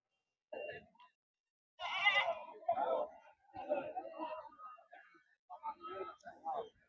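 Rams and sheep at a busy livestock market in Gudur, with bleating calls rising over crowd chatter and nearby voices talking throughout.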